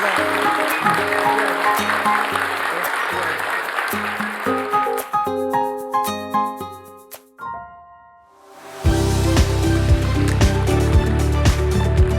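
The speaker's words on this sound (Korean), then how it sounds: "우리 대통령께 여러분 큰 박수를 다시 한번 보내주시면 대단히 고맙겠습니다" Audience at a public policy forum with the South Korean president applauding, broad sustained clapping, then a break with musical chimes, followed by a louder renewed burst of applause.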